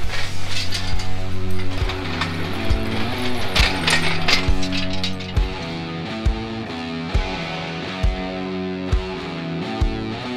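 A ratchet clicks in quick bursts while the cylinder head comes off a first-gen crew cab truck engine with a broken valve spring, sharp close clatter repeating over steady background music.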